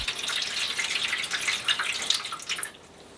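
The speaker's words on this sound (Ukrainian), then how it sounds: "у деко наливаємо воду" Water streams and splashes steadily into a shallow metal oven baking tray while homemade sausage cooks, bright and close, then cuts off near the end.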